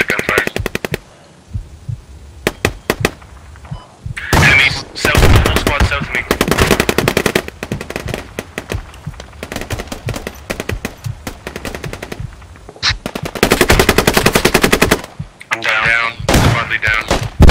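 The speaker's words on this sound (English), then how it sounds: "South of us guys, there's a bunch of gunfire." Bursts of rapid automatic gunfire in the video game Squad crackle in clusters, some close and loud, others farther off, with short quiet gaps between volleys.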